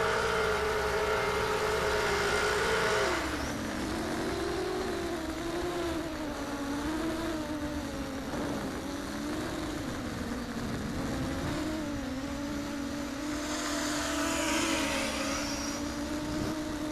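A wooden FPV quadcopter on a high-speed run at full throttle, its motors making a loud, continuous, whining buzz that shifts in pitch as it flies, steady and close.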